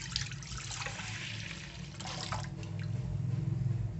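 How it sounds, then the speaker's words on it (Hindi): One litre of milk pours into a pan for sweet sheer khurma, giving a close, steady liquid gush and splash that builds slightly over about four seconds, with no talk. "अब हम 1 लीटर दूध डालेंगे इसमें"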